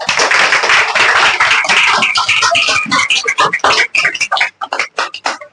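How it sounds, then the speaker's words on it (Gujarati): An audience applauds for teachers at a school Teachers' Day celebration, a loud dense burst of clapping that thins out into scattered individual claps near the end. "તેઓ લોકો માટે આપણે તાળી તો પાડીશું જ"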